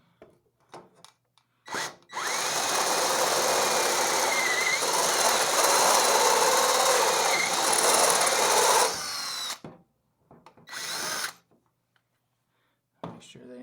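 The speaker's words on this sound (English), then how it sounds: "I drilled a pilot hole, and I'm going to take this one up to" A power drill opens a pilot hole up to half an inch while installing LED headlights on a Wheelhorse 308 garden tractor: one loud, steady whining run of about seven seconds, then two short bursts, with brief voices in between.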